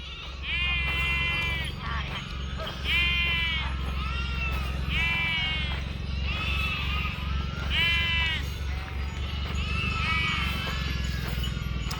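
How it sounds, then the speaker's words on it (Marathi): A huge flock of several thousand sheep at an evening camp bleats constantly, many overlapping calls near and far over a steady rumbling background. "जवळपास 3-4 हजार मेंढ्या आहे मामांच्या इथे तळावर."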